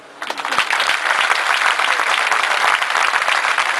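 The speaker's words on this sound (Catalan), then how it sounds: "nosaltres els podem fer un reconeixement a tots amb un fort aplaudiment" A crowd at an outdoor independence rally in Arenys de Munt breaks into loud, sustained applause, dense clapping swelling quickly after a brief quiet start and holding steady.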